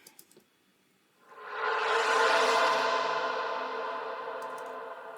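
A shimmering, swelling guitar effect on a Skervesen Raptor FF8 rises from near silence, blooming into a bright washed-out chord that slowly fades with a long reverberant tail.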